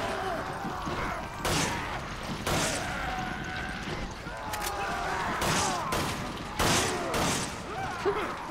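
Gunshots from Resident Evil 5 Mercenaries come in scattered sharp blasts spread throughout, several close and loud, while people talk over the game.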